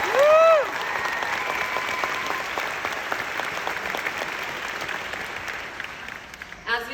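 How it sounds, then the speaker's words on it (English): Sustained applause from a large commencement crowd honoring Steve Hicks School of Social Work graduates at UT Austin, dense steady clapping that starts with a whistle and cheer and continues for several seconds before tapering. "Can we please give a great round of applause to our graduates."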